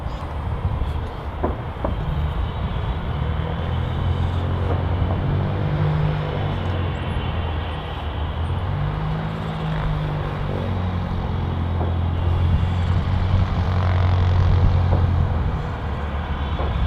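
A Cessna 172 light aircraft on an airport runway, its propeller engine droning with a pulsing, wavering hum that rises and falls in pitch, moderately near and steady, with no voices.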